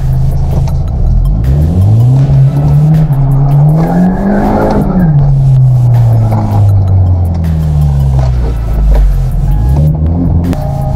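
A Genesis Coupé 2.0T launches at very low revs at a drag strip, engine droning low and loud, pitch rising and falling through gear changes over a steady roar with a faint tire squeal.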